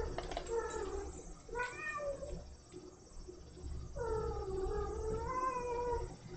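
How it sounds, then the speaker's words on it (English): A pet cat gives loud, drawn-out, wavering meows, two long calls separated by a short pause, close by in an indoor room with faint background hum and no talk. "I wonder if you can hear Kiba's crazy meows right now"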